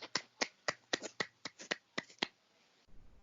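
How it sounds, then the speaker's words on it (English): A single person claps by hand about a dozen times in a quick, slightly uneven rhythm, sharp and close in a quiet room, then stops. "I just felt like giving him a nice clap"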